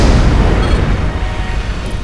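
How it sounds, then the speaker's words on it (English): Explosions during space combat in Wing Commander Saga: The Darkest Dawn, a loud continuous rumbling blast with heavy low boom that swells and rolls on without pause. "just watching the explosions is pretty enough"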